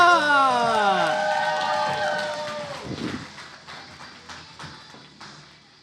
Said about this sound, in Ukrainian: Бурхливі оплески Катерина Соля!